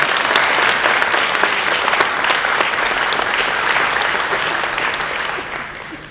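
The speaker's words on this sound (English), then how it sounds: "Let's give him another round of applause." Audience members at a diversity awards ceremony give a sustained round of applause, a dense, even clatter of many hands that lasts about six seconds and gradually thins and fades toward the end.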